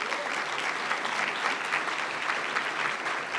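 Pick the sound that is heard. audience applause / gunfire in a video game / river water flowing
audience applause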